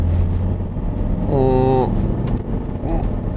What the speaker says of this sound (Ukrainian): Дизель трошки в салоні чути, але непогано.